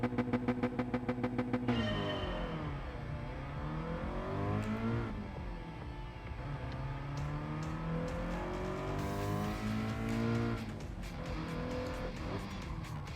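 Race car engine in the video game Gran Turismo Sport, revving hard with rapid rises and drops in pitch through gear changes and braking, plus tire squeal, loud and continuous throughout.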